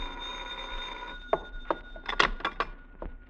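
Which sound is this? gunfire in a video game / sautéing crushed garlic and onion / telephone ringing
telephone ringing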